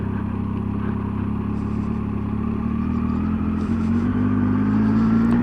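A motorcycle descending the hairpins of the Bealach na Ba (Applecross Pass) in second gear with a little rear brake, its engine a steady close drone whose pitch rises gradually toward the end.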